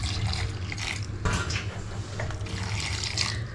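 Water pours steadily into a pan, a continuous splashing gush close by with brief surges in the flow.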